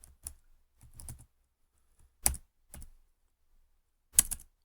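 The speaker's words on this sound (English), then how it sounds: "I'm just going to type a simple title, hello world," Key presses on a computer keyboard while typing a short web page title, a few sparse clusters of crisp clicks separated by quiet pauses, close up with no talk.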